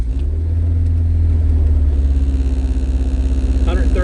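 A 1987 Fiero GT with a K20 engine swap idles and warms up close by, its steady low engine rumble and throb filling the whole stretch, with a person talking over it.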